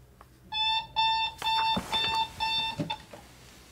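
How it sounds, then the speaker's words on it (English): An alarm clock rings with a bright, steady electronic tone in repeated bursts, about five close beeping pulses following each other, fairly loud and heard alone with no voices. "My alarm clock doesn't know that I've been awake for an hour and a half"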